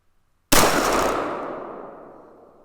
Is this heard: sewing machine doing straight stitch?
no